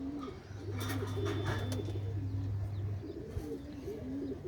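Pigeons coo in repeated low, throaty rolls, steady and fairly close, with a low hum and faint chirps behind them.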